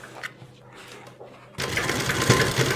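Sewing machine stitching along a fabric edge over elastic on a salwar, a low murmur that gives way to a loud, steady motor whir with rapid needle clatter for the last second or so.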